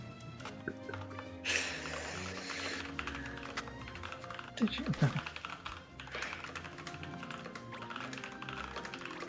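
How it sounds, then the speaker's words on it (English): Rapid computer keyboard typing clatters steadily near the microphone as a fast run of light clicks, heard under people talking with background music. "Who the fuck is going ham on the fucking keyboard?"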